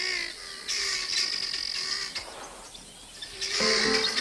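A flock of guineafowl heading toward a river near a ravine in the African bush, giving harsh, repeated chattering calls in bursts that drop off briefly midway and then return loud and close.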